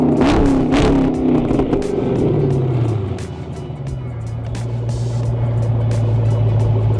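Car fitted with a Flowmaster exhaust and an exhaust cutout switch, loud revving bursts at first, then a deep steady idle rumble close by, with brief clicks and faint background voices.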